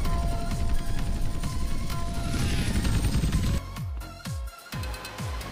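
A P-51 Mustang fighter plane in the video game GTA San Andreas comes in to land, its propeller engine droning loud and steady, then cutting to lower, choppy rhythmic thumps near the end.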